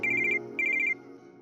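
A telephone rings indoors in a drama scene: two bright electronic ringtone bursts, each a rapid warbling trill, separated by a short gap, loud and close.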